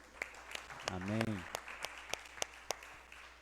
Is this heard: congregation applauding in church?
yes